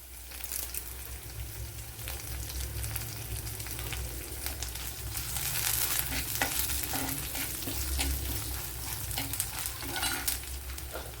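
Curry leaves sizzling in hot oil, a dense, continuous crackling hiss with sharp pops, steady and close without any voices.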